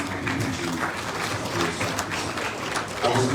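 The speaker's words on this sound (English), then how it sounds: "let's please give him a round of applause" Audience at an energy investment conference applauding, a steady wash of clapping lasting a few seconds with a voice heard faintly beneath it.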